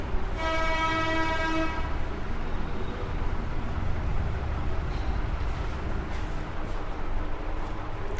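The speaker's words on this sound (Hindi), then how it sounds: "हॉर्न की आवाज़ कभी कभी आती होगी भाई" A vehicle horn blares outside for about two seconds, a steady harmonic tone, then fades into a constant low rumble of distant traffic.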